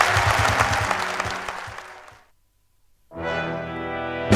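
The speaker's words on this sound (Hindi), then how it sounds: "दोस्तों की भरपूर तालियां" Loud audience applause in a television studio show, dense clapping that stops abruptly, a short silence, then a sustained musical chord swells in.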